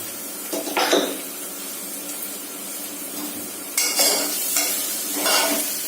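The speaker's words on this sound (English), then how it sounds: "Then I'll give this a good mix and let it cook for some time" Spices with salt, turmeric and coriander powder frying in a pan for khichdi, a close sizzle with several bursts of scraping as a spoon stirs the mixture.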